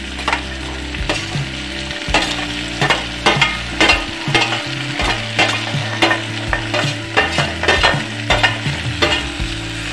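Carrot, peas, tomato and cabbage sizzle in a pan for veg pulao while a spoon stirs and scrapes in steady, loud strokes close by, with no talking.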